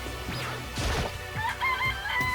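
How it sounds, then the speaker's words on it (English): Chicken sounds in the video game Danganronpa: Trigger Happy Havoc, with a brief crash-like thump early on, then a few short high clucking calls over steady game music. "It's a chicken."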